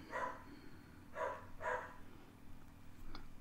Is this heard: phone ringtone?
no